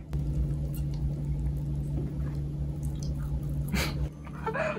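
Juicy food is bitten during quiet close-up ASMR eating, giving soft moist patters and a couple of crisp, wet crunches over a low steady hum.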